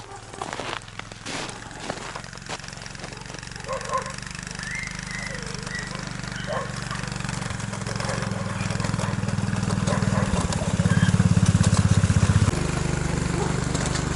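A Buran snowmobile's small 18.5-horsepower engine drones steadily in a winter forest, growing louder and rougher toward the end, with some crackling noise and a few faint voices in the background.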